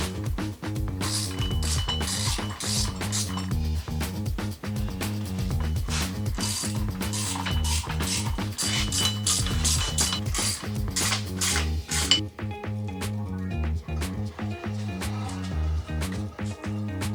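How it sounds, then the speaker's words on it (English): A Dana 44 axle from a Wagoneer, fitted with new gears and a locker, has its shaft spun by hand, giving a steady run of close mechanical clicking and ratcheting that thins out toward the end. "they conveniently place a hole in that axle shaft so you can spin it around"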